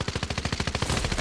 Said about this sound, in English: It's a bot shooting me, mate.